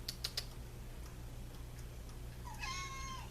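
A pet cat named Allie gives a single drawn-out meow near the end, preceded by a few sharp ticking clicks over a low steady background hum.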